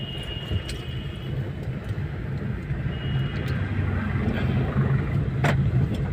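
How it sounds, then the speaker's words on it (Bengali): A car creeping slowly in third gear makes a low, steady engine drone that swells slightly toward the end, heard close with faint rattles and no talking. "এই থার্ড গিয়ারে দিলাম, গাড়ি আমার টুকটুক করে এগোচ্ছে।"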